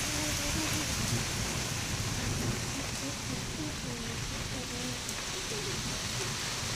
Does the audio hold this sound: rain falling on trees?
yes